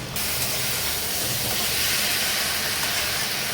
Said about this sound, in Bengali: এবার এর মধ্যে ফুলকপিগুলো দিয়ে দেবো, ভেজে রাখা ফুলকপি। দিয়ে খানিকক্ষণ কষাবো।